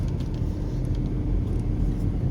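A car drives back down a mountain road in the Austrian Dolomites area, producing a steady low engine hum and road rumble, close and continuous with no talking.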